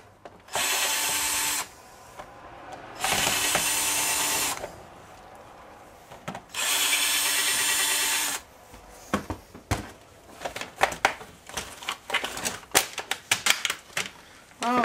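Screws being backed out inside a dual window fan during scrapping: three long, loud whirring bursts of a driver, then quick irregular clicks and rattles of loose parts.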